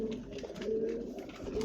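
Pigeons cooing in a pigeon loft housing Belgian racing pigeons, soft sustained low coos repeating continuously and close, with no voices.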